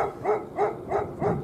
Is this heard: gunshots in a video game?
no